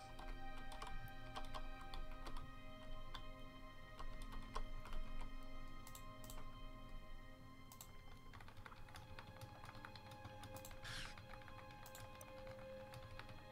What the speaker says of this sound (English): Who the hell's typing that fast?